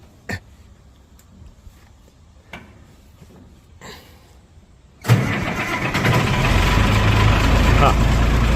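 An antique tractor engine cranks and catches after a few quiet clicks and knocks, then roars to life and settles into a loud, steady running rumble close by.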